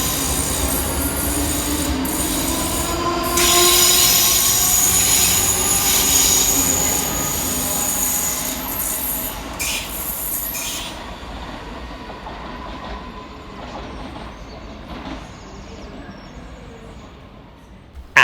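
Two Scotrail electric units, 385001 and 385020, arrive at Edinburgh Haymarket station on a Dunblane service, with rumbling wheels and brake squeal that build, then ease as the train slows and settles, a steady nearby rail sound with no talk.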